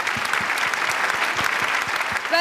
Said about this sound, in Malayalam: നല്ലൊരു കയ്യടിയും ആൻഡ് റിയൽ സല്യൂട്ട് എവരിവൺ